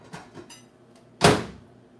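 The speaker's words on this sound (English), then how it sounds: "I'm gonna stick it in the microwave." A microwave oven door, with faint rattling handling first and then one close, loud thunk as the door shuts, fading quickly.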